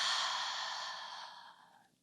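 A long exhaled breath during a yoga forward fold, a soft airy sigh that starts fairly strong and close, then fades steadily over about two seconds with no voices.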